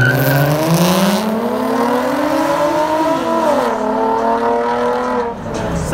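A Z1 sports car pulls up at a street car meet, its engine loud and close in a steady rising and falling drone as it revs, with faint crowd noise underneath.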